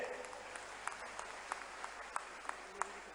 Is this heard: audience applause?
yes